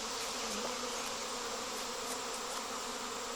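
A dense, steady hum of a fall honeybee swarm, many bees buzzing together in a continuous drone with occasional louder passes of individual bees nearby.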